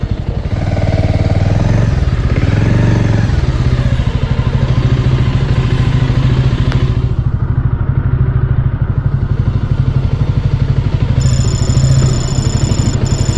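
A motorcycle engine idles steadily close by in a parking area at Garpanchkot, Purulia, a continuous low rumble with light mechanical clatter that runs the whole time with no talking.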